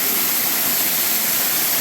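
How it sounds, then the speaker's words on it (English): A waterfall flows hard outdoors, a dense, steady rushing roar that stays loud and close throughout with no talk over it. "Woohoo! Waterfall!"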